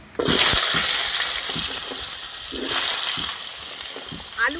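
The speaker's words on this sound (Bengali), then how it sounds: "ওই কড়াইয়ে সামান্য তেল দিয়ে এই আলুগুলো আমি ভেজে নেবো" Potatoes frying in a little oil in a wok, a steady close sizzle with occasional stirring clinks running throughout, with some voice in the background.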